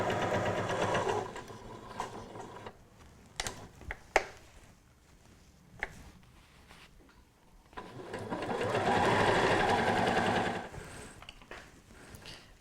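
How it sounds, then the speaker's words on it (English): A sewing machine stitches close to the edge of fabric for a table runner. There are two bursts of steady, rapid mechanical whirring with a pause between them that holds light clicks and handling noises. The sound is close and there is no talk. "I've moved the needle right over so that I can use the edge of the presser foot as my guide and stitch really close to that edge"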